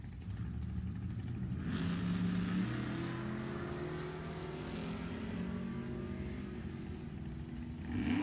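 A 1963 Nova and a 1971 Vega wagon drag racing at a nostalgia drag strip, loud engines roaring with rising and falling pitch, distant and steady with no voices.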